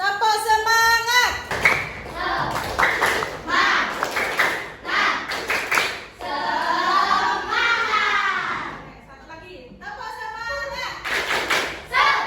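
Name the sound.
children doing a rhythmic clapping chant in class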